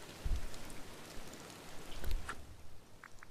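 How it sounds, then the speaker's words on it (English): Gentle rainfall in the cozy life-sim video game Disney Dreamlight Valley, a soft steady patter with a couple of low muffled thumps, heard alone without talk. "I love the way the rain sounds."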